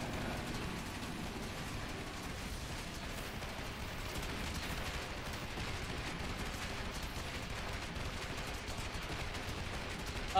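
Continuous gunfire from The Division 2 Iron Horse raid fills the whole stretch, a dense steady barrage of rapid automatic shots with no pauses, loud and unbroken.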